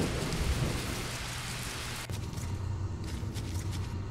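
Steady heavy rain hisses through a stormy scene in the video game The Touryst, with a sharp thunder crack midway and low rumbling continuing underneath.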